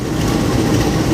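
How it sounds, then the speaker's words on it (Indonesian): Matarmaja passenger train pulling into Kediri station as it crosses the Singasari train from Pasar Senen to Blitar, a steady loud rumble of wheels and heavy engine filling the whole moment without a break. "kereta api Matarmaja sampai di stasiun Kediri, menyilang kereta api Singasari dari Pasar Senen tujuan Blitar"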